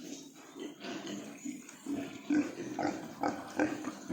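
Pigs on a farm grunt and snort in a rough, uneven series of short low bursts, close by and moderately loud, growing busier toward the end.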